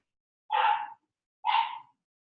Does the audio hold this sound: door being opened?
no